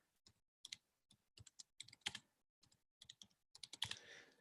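Quick typing on a computer keyboard, with irregular bursts of crisp, close key clicks separated by short pauses and a slightly louder flurry at the end, in a quiet room.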